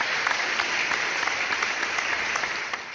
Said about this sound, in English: We'll insert some round of applause for David.